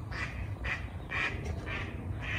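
A single duck quacks outdoors in five evenly spaced calls, fairly close, over a steady low background rumble.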